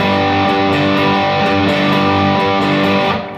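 Electric guitar power chords played without palm muting, so the heavily distorted chords sustain loudly and continuously before fading at the end.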